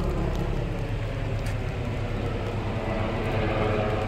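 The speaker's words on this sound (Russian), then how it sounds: "Вертолетик полетел." A helicopter drones steadily overhead, a continuous low rumble with rotor throb that holds at an even, moderately loud level throughout, with no talk.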